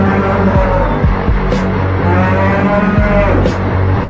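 A cartoon buffalo lets out a long, loud, low moo that rumbles continuously for several seconds, close and alone with no talk over it.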